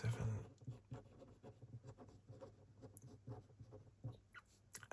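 Pen writing by hand on paper, close and quiet, a continuous stream of soft scratchy strokes and taps in an uneven rhythm with no talking.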